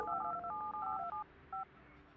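Telephone keypad tones from the Project Highrise building-management game, a quick run of beeping dial tones followed by a short pause and one final beep, fairly quiet.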